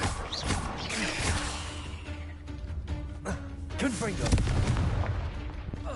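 Confringo fire-spell blasts in the Hogwarts Legacy wizarding game, several dull booming explosions spread through the clip amid busy game effects and ambience, moderately loud.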